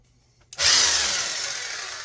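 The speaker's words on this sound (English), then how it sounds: "hopefully drill through here and hit the factory holes" A power drill starts abruptly and whines steadily as it bores through the servo mount of a 1/6th scale FMS Jimny RC car, close and loud, holding a continuous buzzing pitch.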